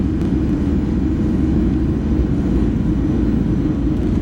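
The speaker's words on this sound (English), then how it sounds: "It's interesting that the sound of the reversers just stays" Learjet 35A on the runway after landing, thrust reversers producing a heavy, steady low rumble and roar that stays constant and loud throughout, with no pauses.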